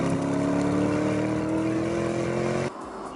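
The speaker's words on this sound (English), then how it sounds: "I'm currently driving on snow and ice in a car that has 641 horsepower rampaging around underneath its bonnet" A 641-horsepower car engine roars steadily on snow and ice in The Grand Tour racing game, a loud sustained drone with a constant pitch that drops off sharply near the end.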